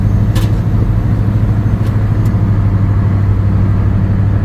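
A 1970s HQ Holden Monaro V8 drives along with a steady, loud low engine drone and road rumble, with no voices over it.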